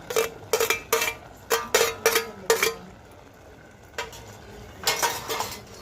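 Raw mango pieces drop into a pot of cooked dal with onions and green chillies, making a series of close clattering knocks of utensils against the pot in quick clusters, then a pause and a few more.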